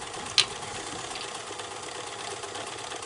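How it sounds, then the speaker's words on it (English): A sewing machine stitches a 3/8-inch seam in fabric for a cat collar, giving a steady, even running hum with one sharp click near the start. "I'm going to sew 3/8 of an inch seam allowance"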